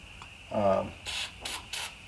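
Three short hissing bursts of spray lubricant from an aerosol can, evenly spaced, following a brief low hum; close and fairly loud.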